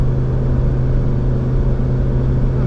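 Pickup truck engine pulling steadily under moderate throttle, a continuous close, loud low rumble with a constant drone, no clear gear change audible, heard alone without talk.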